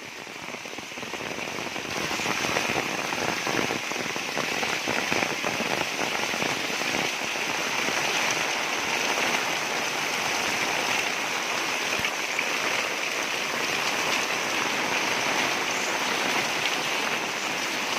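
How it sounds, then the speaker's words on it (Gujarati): Heavy rain pours down steadily in a dense, continuous roar of drops hitting surfaces, building up in the first couple of seconds. "જોરદાર વરસાદ આવી ગયો"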